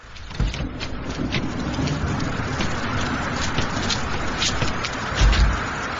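Steady, dense rain hiss fills the whole stretch, with low rumbling underneath and a couple of brief heavier thumps; no voices.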